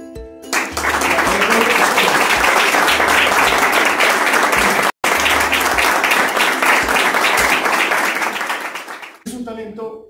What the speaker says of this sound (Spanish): Así que yo doy un aplauso para ellos.